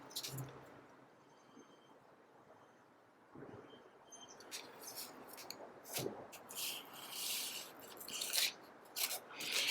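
Tape is pressed along the edge of a painting panel and burnished down, making quiet close rubbing and scraping strokes that grow denser and louder toward the end.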